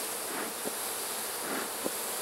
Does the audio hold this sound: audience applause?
no